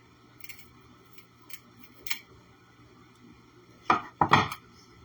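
Pruning shears snip through a monstera stem for propagation cuttings, a few light clicks followed by two or three louder, sharp close cuts near the end.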